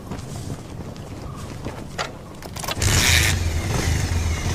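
Motorbike engine revving up as riders pull away, a mid-pitched growl that surges loudly near the end after a few clicks and bumps.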